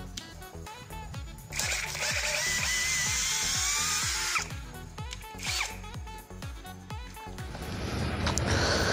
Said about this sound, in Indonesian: Ini tenaga dari bornya mampu mengebor sampai dengan mata bornya habis secara keseluruhan.